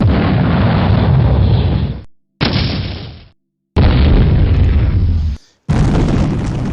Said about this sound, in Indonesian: Demikian tembakan meriam bertubi-tubi dilakukan untuk menghancurkan lawan.